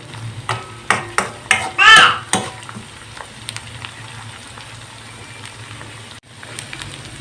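Ginger garlic paste fries in hot ghee with a crackling sizzle, busiest early with a cluster of pops and clicks, then settling to a quieter steady hiss; a brief voice breaks in.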